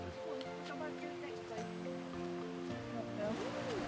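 Becker Brook flowing through an autumn woodland walk near Houndtor, a soft, steady rushing of water in the background while people talk over it.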